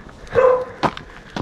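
A single short dog bark or yelp sounds close by, followed by light footsteps and small scuffling noises outdoors.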